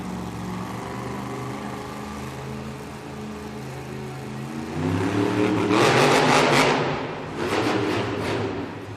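The Shell Shocked monster truck, driven by Dalton Widener in a two-wheel skills challenge at an Oakland stadium event, idles with a deep rumble, then revs hard to a loud roar in two surges before easing.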